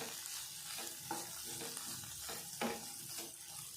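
Ridge gourd sizzles and crackles steadily in a hot pan while being sautéed, with occasional scraping stirs of a spoon, no talking.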